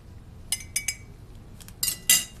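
A metal soup spoon clinks against a container while measuring dry soup mix: a few sharp, close taps, then a couple of louder scraping clinks over a quiet background.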